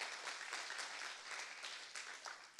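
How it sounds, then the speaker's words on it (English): Faint, distant applause from a church congregation giving a clap offering, a steady wash of many hands heard from far off at low level. "We just give God our very best clap offering."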